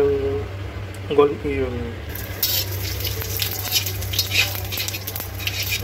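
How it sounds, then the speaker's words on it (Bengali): Cumin seeds and two bay leaves dropped into hot oil, crackling and sizzling with a bright spitting hiss that starts after a brief spoken moment and continues steadily. "এবার এই গরম তেলের মধ্যে কিছুটা ফোড়ন দিয়ে নেবো"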